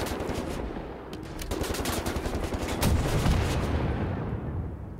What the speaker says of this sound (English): What's that sound? Oh, okay, that's a big gun.